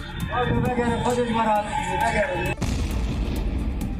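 Talking, then a sudden loud blast as a rocket strikes a building, followed by a rumbling, crackling roar as the building collapses and debris settles.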